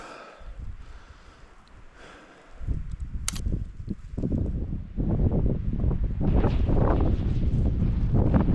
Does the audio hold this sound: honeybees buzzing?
no